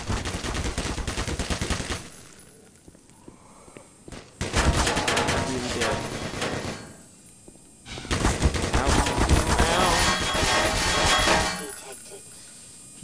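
Soldiers fire guns in bursts in Black Mesa, with dense, loud rattling automatic gunfire in three long volleys separated by brief lulls, close and harsh.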